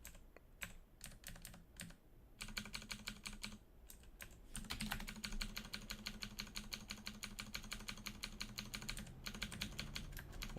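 Computer keyboard keys, mostly the tab key, are tapped during a session of the game Dungeon Crawl Stone Soup. Quick, close, crisp clicks come in rapid, uneven bursts with short pauses between them, and no voices are heard.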